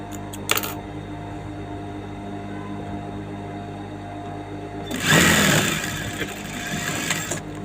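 A sewing machine stitches the lining of a saree blouse, whirring steadily and close by before rising into a louder, faster burst of stitching near the end. No one speaks.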